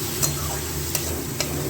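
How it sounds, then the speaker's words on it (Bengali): Capsicum, tomato and onion frying in a pan for a pabda fish curry, a steady close sizzle with a few sharp clicks of a spatula stirring against the pan. "এবার ওগুলো একটু মজুক ভালো করে, ক্যাপসিকাম, টমেটো, পেঁয়াজটাও একটু ভাজা ভাজা হোক"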